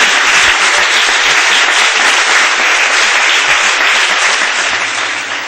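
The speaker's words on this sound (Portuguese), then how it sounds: "Pode aplaudir, que a honra, a glória," Loud, sustained applause from a church congregation, many hands clapping in a dense unbroken roar that tapers slightly toward the end.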